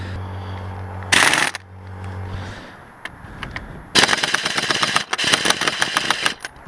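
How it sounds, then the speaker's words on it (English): A pneumatic impact wrench rattles on a motorcycle sprocket of a Yamaha TRX850, with a short loud burst, a pause, then a longer series of hammering rattling bursts, close and loud. "not everybody has a rattle gun, but I do"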